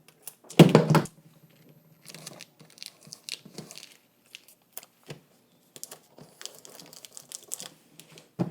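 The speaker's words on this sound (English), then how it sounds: "let's put down some heat-resistant tape" Heat-resistant tape is torn and pressed onto a straw sun hat. One loud crinkling rip opens the clip, followed by scattered small crinkles, taps and tape tearing close by.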